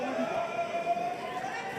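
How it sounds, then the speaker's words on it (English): Anxious crowd at an HX MMA fight between Bougamoun and Picaud, a steady tense murmur of many voices filling the arena throughout, with no single voice standing out. "Hear the crowd, a little anxious."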